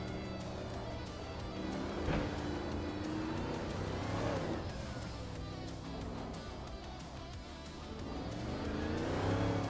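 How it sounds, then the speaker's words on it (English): Racing engines of cars including a 1971 Porsche 917/10 Can-Am race car roar continuously and loudly, with rising and falling pitch sweeps as cars rev and pass, steady throughout with no talk. "Marty Freeze is driving a 1971 Porsche 91710, a legendary race car known for its dominance in the Can-Am series"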